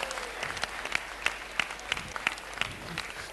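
An audience claps together in a hall at a rabbi's talk in Tiberias, a brisk, moderately distant burst of applause with sharp individual claps rising above the crowd.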